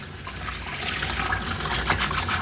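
A steady, close stream of running water rinses soap out of a dog's coat during grooming, a continuous loud wash with slight splashy variation and no talking.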